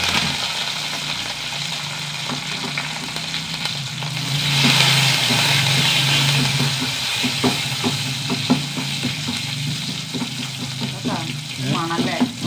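Dried chillies, garlic cloves and curry leaves fry in hot oil with a loud, steady sizzle and occasional stirring clinks, close up and without talk.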